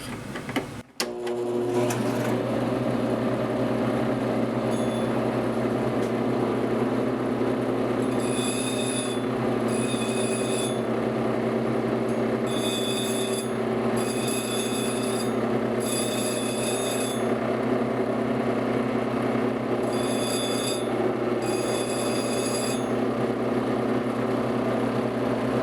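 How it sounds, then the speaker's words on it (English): A DIY slow-speed grinder's electric motor runs steadily with a belt drive under a guard, giving a continuous even hum and whir with intermittent high whining tones, close and unbroken throughout. "make sure the vibration I'm hearing is just the motor bouncing"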